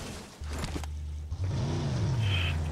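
A car in the mobile battle-royale game PUBG Mobile, its engine humming and rising in pitch as it revs and drives off, a steady close drone with a brief dip partway through.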